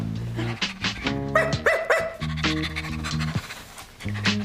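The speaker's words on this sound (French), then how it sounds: "Je l'aime, ce petit chien-là" Small dog panting steadily in quick breaths, broken by a few sharp yips and barks, close and fairly loud throughout.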